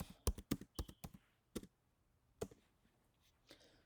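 Tags being typed on a computer keyboard: a quick burst of crisp key clicks, then a pause and a few scattered taps, close and quiet with no talking.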